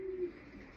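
A young racing pigeon being weaned at a pigeon loft gives a single soft, brief coo, faint and close, with no other voices.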